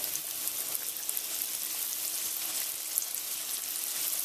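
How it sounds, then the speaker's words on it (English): Catfish fries in a thin layer of oil in a pan with a steady, close sizzle and faint crackling pops throughout. "We're just going to go ahead and lay the fish inside there."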